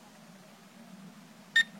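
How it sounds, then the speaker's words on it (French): A single short electronic beep rings out near the end after quiet background hum, from a Syma X5SC toy drone switching into headless mode. "on entend les bips"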